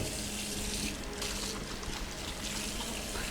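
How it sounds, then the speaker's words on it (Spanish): Tap water runs steadily into a sink during handwashing with soap and hot water, making a loud, continuous splashing rush with no talk over it. "va a pasar a lavarte las manos"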